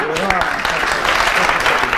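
Audience applause at a Toastmasters club's fifth-anniversary gathering in Ouagadougou, a steady dense wash of clapping lasting about two seconds, with voices audible underneath.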